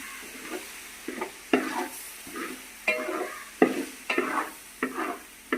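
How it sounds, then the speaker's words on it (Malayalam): Wooden spoon stirring jackfruit in a pan, a soft scraping stroke repeated roughly every second, with a faint sizzle underneath, close and fairly quiet, no talking. "നമ്മുടെ തടിത്തവി എടുക്കുക ഇളക്കുക"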